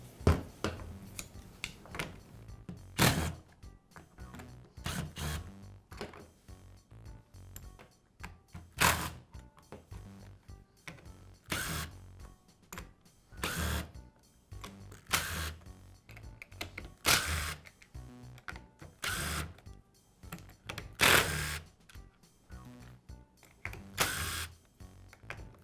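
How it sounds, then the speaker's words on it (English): Screws being backed out of the plastic housing halves of a Black and Decker trimmer, heard as a long run of close, sharp clicks and ticks with occasional louder snaps, no talk. "Now remove the screws that secure the two halves of the housing together."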